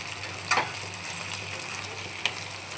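Chicken pieces sizzle in a pan of oil for chicken curry, a steady close frying hiss broken by a couple of light stirring taps.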